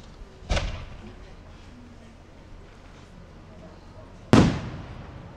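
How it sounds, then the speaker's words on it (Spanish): Firework rockets set off at a neighborhood posada in Tecozautla go off as two sharp, loud bangs about four seconds apart, each cracking and trailing away over a quiet background. "Les pedimos de favor que ya no tiren más cohetes"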